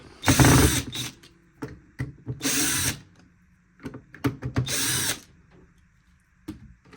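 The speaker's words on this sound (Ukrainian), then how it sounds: "І викручуємо після цього всі ці гвинтики, які тримають е, бампер, і всі гвинти, які тримають корпус." An electric screwdriver whirs in three short bursts while removing screws from a Roborock robot vacuum's bumper and housing, with small clicks and handling taps between runs, close and quiet.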